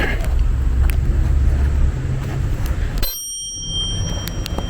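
A bicycle bell rings out with a few sharp, bright dings near the microphone at a street protest, over steady traffic rumble and passing cars.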